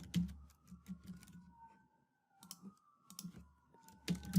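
Keys tapped on a computer keyboard in short, uneven bursts of quiet clicks with brief pauses, close up, while a faint wavering siren-like tone sweeps along in the background.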